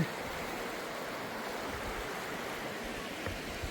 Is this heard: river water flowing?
yes